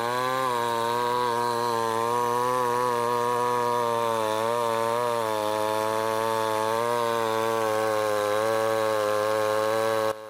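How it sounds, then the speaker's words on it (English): A big Stihl MS 881 chainsaw cuts through a large log, its engine roaring loud and steady at close range for about ten seconds, the pitch wavering slightly as the chain bites into the wood. "The sound produced by the big Stihl MS 881 was a bit loud"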